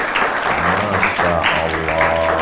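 An audience at a live religious lecture in Kutai Kartanegara claps together in a short, dense burst of applause, with a faint voice mixed underneath.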